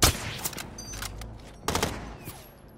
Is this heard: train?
no